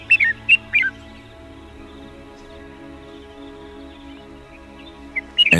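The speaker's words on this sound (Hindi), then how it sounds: "olive winged Bulbul पेक्नोनोटस प्लूमोसिस" Olive-winged bulbul (Pycnonotus plumosus) in humid forest, giving a few short whistled chirps near the start and again at the end, with a steady low ambient hum between them.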